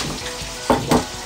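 Food sizzles and crackles in a pan, with two brief louder stirring bursts over a steady frying hiss.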